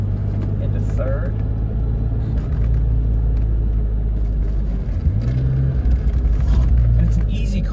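A 1991 BMW M5 pulls hard in third gear, its engine a loud, steady low rumble heard from inside the car, with a rising tone as it accelerates partway through.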